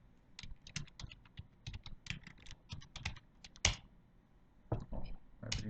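A password is typed on a computer keyboard during a Windows Server 2019 setup in a virtual machine, producing quick irregular bursts of close key clicks with short pauses and a louder keystroke near the end.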